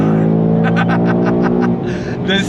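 A 2025 Ford Mustang Dark Horse V8 pulling hard in third gear, a steady deep engine roar with rising pulsing harmonics, loud and close from inside the car.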